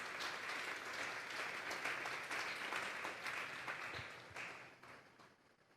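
A church congregation applauds during a Sunday afternoon service, with steady, even clapping from many hands that stays fairly distant and soft and tapers off at the end.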